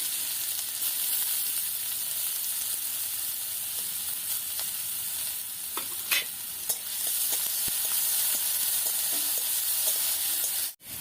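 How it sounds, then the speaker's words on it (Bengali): Chopped onion and green chilli frying in white oil in a wok, a steady close sizzle with stirring scrapes and a few sharp clinks, continuing without talk. "কড়াইতে সাদা তেল দিয়ে দেব। পেঁয়াজ কুচি, কাঁচা লঙ্কা কুচি একটু ভেজে নেব।"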